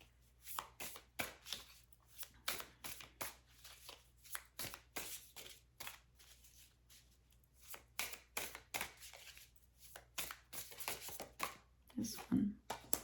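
Tarot cards shuffled by hand, a run of soft, quick riffling and slapping bursts that keeps a loose rhythm throughout, fairly quiet and close, with a brief voice near the end.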